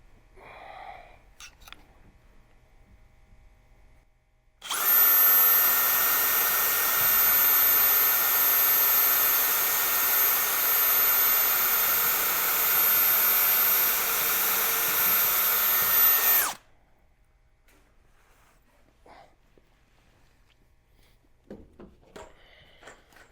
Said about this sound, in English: Now get my drill.